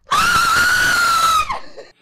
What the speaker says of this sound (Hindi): तब से उस बच्चे की चिल्लाने की आवाज मीना को सुनाई देती थी